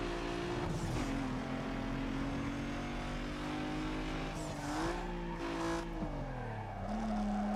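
A car in Need for Speed Underground 2 skids out of control, its engine droning loudly and unbroken while tires squeal and the pitch bends as the vehicle slides and recovers.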